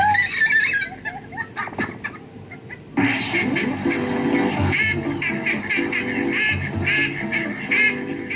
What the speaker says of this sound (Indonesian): Entah apa yang dilihat bebek yang satu ini, tapi cara ia tertawa adalah hal yang paling menarik perhatian.